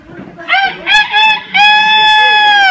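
A rooster crows loudly and close, a drawn-out harmonic call that rises and holds steady near the end, after a few shorter clucking bursts, with a kitchen setting faintly behind.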